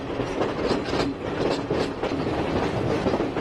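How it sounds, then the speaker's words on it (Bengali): A train runs steadily through tea plantations on the Kandy to Ella line in Sri Lanka, with continuous rumbling and rhythmic clickety-clack of wheels over rail joints, heard close from inside the carriage. "চা বাগানের মাঝখান দিয়ে এই ট্রেনটা চলেছে"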